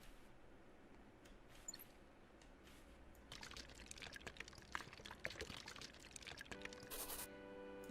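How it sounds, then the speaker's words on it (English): Concrete pours from a mixer in the video game Landlord's Super, a faint liquid sloshing and trickling that builds into denser splattering midway, ending with a brief chime-like game tone. "Once you've got your concrete mixed, wheel it over and start pouring it in."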